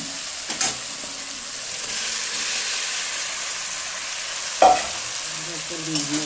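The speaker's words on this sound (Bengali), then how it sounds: "এখন এখানে আমি আলুগুলো, সিদ্ধ করা আলুগুলো দিয়ে দেবো।" Boiled potatoes frying in oil with a cooked spice masala, a steady soft sizzle with a few louder stirring scrapes and clatters, close and without talk.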